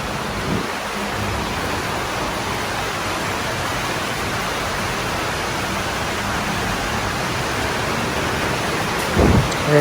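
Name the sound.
heavy rain falling in Bangkok street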